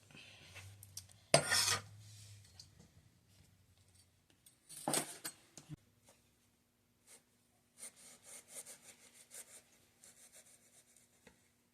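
A knife cutting the edges off a thick gel-filled leaf, close rasping saw-like strokes in two louder bursts followed by lighter scattered scraping cuts in a quiet room.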